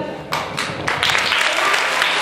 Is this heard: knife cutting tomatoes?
no